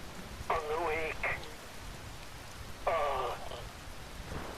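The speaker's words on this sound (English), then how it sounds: "Wind blows, rain falls." Steady rain hiss runs throughout a Metal Gear Rising: Revengeance scene, with two bursts of warbling voice or synthetic tones rising above it.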